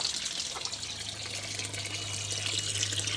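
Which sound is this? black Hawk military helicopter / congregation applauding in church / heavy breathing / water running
water running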